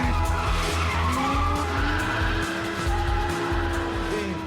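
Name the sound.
Audi R8 V10 convertible engine noise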